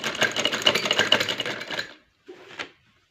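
Sewing machine stitching after its lower bobbin nut was tightened, a loud, fast mechanical rattle running about two seconds, then a short second burst after a pause.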